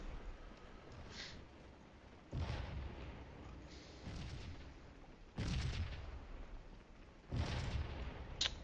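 Massed musket volleys from an infantry brigade in Scourge of War: Gettysburg, four heavy crackling bursts spaced a second or two apart over a low rumbling battlefield bed, moderately distant.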